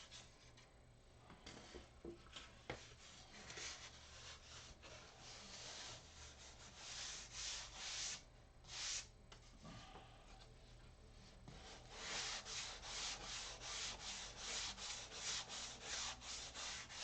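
Steady scratchy rubbing of sandpaper on the wood of a control-line stunt model plane, continuous back-and-forth strokes that swell louder in bursts, close by with no talking.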